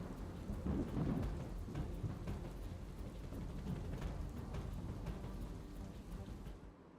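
Rain pours steadily in southern Gujarat while low thunder rolls and rumbles through it. The thunder swells early on, and the downpour hisses on at a moderate level with no voices.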